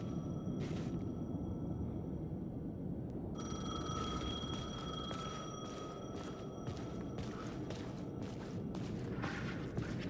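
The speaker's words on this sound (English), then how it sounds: "The payphone was ringing." A payphone in Alan Wake 2 rings in repeated electronic trills, short bursts at a steady rhythm over a low rumbling ambient drone, growing more insistent after a quiet start.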